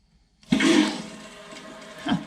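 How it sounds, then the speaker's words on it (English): Water rushing into a newly installed Toto Aquia IV toilet after the supply is opened, a steady close hiss and gurgle that surges at the start and swells again briefly at the end. "So I'm going to turn the water on now."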